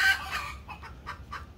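A small hen clucks in a quick series of four or five short, clipped calls after a brief louder squawk, close by and with no talking.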